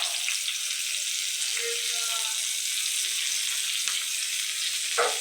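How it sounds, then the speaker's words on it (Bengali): Chopped onions frying in a little ghee, a dense continuous sizzle up close with occasional faint scrapes and knocks. "আমি তেলের মধ্যেই শুধু পেঁয়াজটা ভাজছি।"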